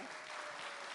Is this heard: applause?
yes